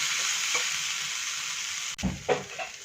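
A mushroom and cheese filling is stirred in a hot pan under a steady, close sizzle, with a couple of scraping stirs near the end and no talking.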